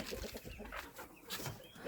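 Farmyard chicks and ducklings cluck and peep softly at feeding time, a scattered, faint chorus of short calls with some rustling nearby.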